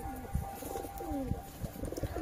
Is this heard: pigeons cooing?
yes